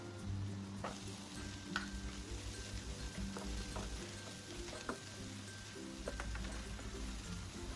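Minced garlic, then onion, sizzles in melted butter in a pan, with a steady close crackle and scattered sharper pops throughout.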